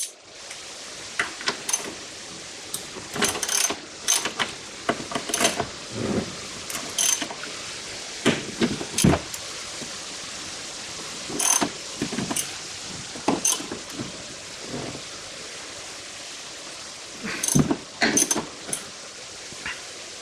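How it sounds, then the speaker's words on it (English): Hand tools working the rear shock bolts on an Audi 80 B4, a close series of irregular ratchet clicks and metallic clanks in short bursts separated by quiet pauses. "Using hand tools because the kids are in bed."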